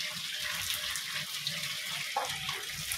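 Water poured off partly boiled rice in a home kitchen while making chicken biryani, a steady broadband rush and splash running the whole time with a brief heavier gush near the end.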